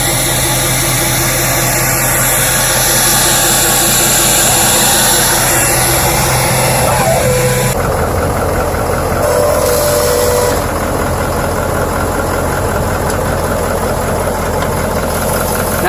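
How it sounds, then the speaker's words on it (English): The engine of a modified 2019 Ford F450 Limited pickup truck with custom suspension during a ride, a loud, steady, close drone that shifts in tone partway through, with no talk. "Clifford is actually about to take me for a ride in this truck"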